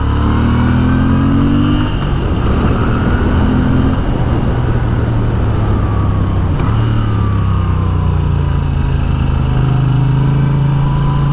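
A 2026 Moto Guzzi V7 Sport motorcycle engine runs steadily while being ridden, with a loud continuous drone whose pitch slowly rises and falls as the revs change, along with wind and road noise.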